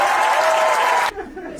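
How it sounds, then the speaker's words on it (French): An audience at a comedy show applauds loudly and close by for about a second, then the clapping stops abruptly and leaves a quieter room. "Applaudissements pour eux."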